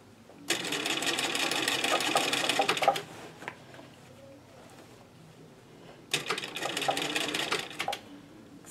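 A sewing machine stitches a ruffle onto a fabric table runner in two loud, rapid bursts of rattling needle strokes. A quiet pause with faint handling noise separates the bursts.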